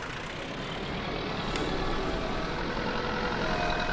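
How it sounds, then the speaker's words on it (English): A tractor engine runs in a steady low rumble on a farm, continuous and fairly loud with a faint click partway through, with no talking. "Oh, I love this tractor."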